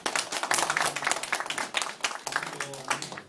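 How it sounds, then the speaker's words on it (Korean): Encouraging applause from a church congregation honoring a pastor, a scattered burst of hand clapping with some voices mixed in. "격려의 박수를 해주시기 바랍니다"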